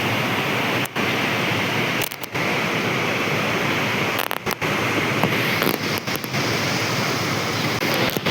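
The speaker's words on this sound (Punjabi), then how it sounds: "ਕਿਵੇਂ ਜਾਂਦਾ ਛੱਲਾ ਮਾਰਦਾ ਬੜਾ ਜ਼ਿਆਦਾ ਪਾਣੀ ਆ" Loud, continuous roar of rushing floodwater in a river, a broad steady wash of churning flow close by, with no voices over it.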